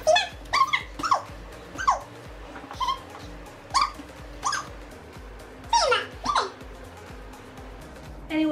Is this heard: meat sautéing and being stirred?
no